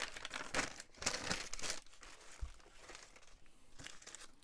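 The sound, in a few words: peeling a faux glassine sheet away from its backing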